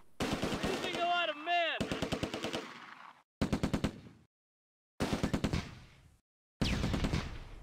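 Tank gunfire from a Mark IV in the Close Combat: A Bridge Too Far game, several loud bursts of rapid cracking shots separated by brief silences.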